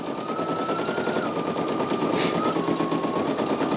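Two Brother embroidery machines stitching the same design at once, with a fast, even mechanical rattle of needles and a thin motor whine running underneath, loud, close and continuous.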